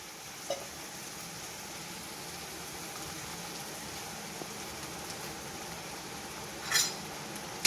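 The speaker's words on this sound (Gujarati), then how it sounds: "હવે હલાવી દઈશું થોડા." A spoon stirs soaked sabudana khichdi in a pan, producing faint, soft scraping and clinking in a quiet kitchen with a light sizzle underneath and one brighter clink near the end.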